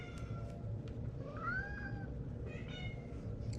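A pet cat meows faintly in the background, a short rising and falling call around the middle, over a steady low room hum, with no talking.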